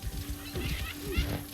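A horse in the video game Assassin's Creed Shadows gives a short whinny with a wavering tone over game ambience and brief movement noise, close and moderately loud.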